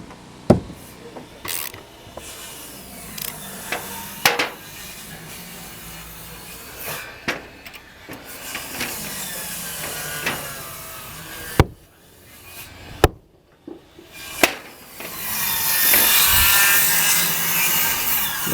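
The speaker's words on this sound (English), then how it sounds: "Well, Dan, we're gonna start pounding this log in here." Sharp thuds and knocks of a log being pounded into place during an 1880 log cabin restoration, irregular and fairly close, with scraping and rubbing of wood between strikes and a rising rushing noise at the end.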